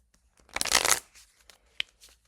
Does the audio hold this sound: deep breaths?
no